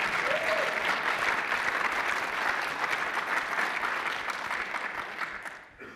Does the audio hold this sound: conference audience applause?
yes